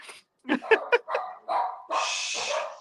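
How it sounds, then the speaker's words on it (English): Small 14-pound dogs yapping nearby, a quick burst of high-pitched barks followed by a couple of longer, whiny yelps. "My 14-pound watchdogs are barking."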